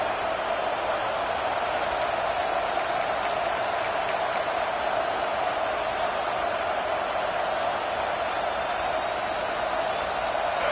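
Football stadium crowd at an NGFL game, a steady loud roar of many voices filling the whole stretch with no break, a few faint higher whistles or shouts near the start.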